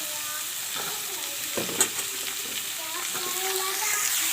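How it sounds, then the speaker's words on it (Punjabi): Cut pumpkin pieces dropped into a hot pan, giving a soft steady sizzle with a few stirring clatters near the middle, heard up close without speech. "ਤੇ ਹੁਣ ਆਪਾਂ ਇਹਦੇ ਵਿੱਚ ਪਾਵਾਂਗੇ ਪੇਠੇ ਦੇ ਪੀਸ ਜਿਹੜੇ ਕੱਟੇ ਹੋਏ ਨੇ"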